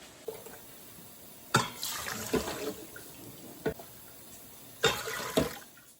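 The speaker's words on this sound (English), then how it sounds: "Jackson's washing dishes, so that's what that noise is." Running water splashes in the background with several sharp clinks and clatters of dishes, scattered and moderately loud, no one speaking.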